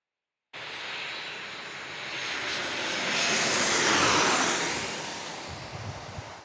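A Southwest Airlines airliner passes at San Diego airport, its engine roar swelling from nothing to a broad, hissing peak and then easing slightly as it goes by, with no voices.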